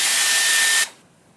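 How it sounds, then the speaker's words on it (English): A hair blow dryer runs in a steady loud whoosh with a faint whine, then cuts off abruptly partway through, leaving near silence. "this whole time I was drying my hair with the blow dryer side pointing the completely wrong direction"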